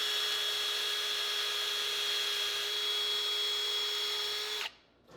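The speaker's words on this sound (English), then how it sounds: "I'm gonna drill a hole through them" A power drill whines at a steady high pitch for several seconds boring through rubber engine mounts, close and loud, then cuts off abruptly into near silence.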